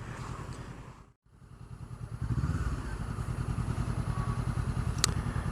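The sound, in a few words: BMW R nineT motorcycle engine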